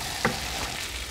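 Eggs fry and are stirred gently in a pan with rosemary for Ethiopian egg tibs, giving a steady close sizzle with a brief louder clatter of stirring near the start.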